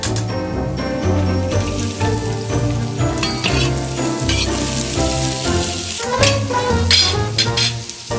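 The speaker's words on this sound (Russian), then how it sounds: "пока жарится лук" Loud, steady sizzling of onions frying in a pan, with crackling spatters and occasional stirring scrapes, close up and without talk.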